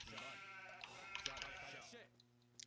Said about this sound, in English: Get these sheep.